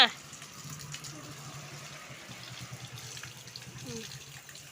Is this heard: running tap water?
yes